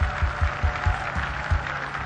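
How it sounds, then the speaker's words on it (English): A church congregation at a sermon claps along in a steady, rhythmic beat, low thumping claps repeating about every quarter second under a murmur of sustained sound. "let me hear you clap more for the Lord"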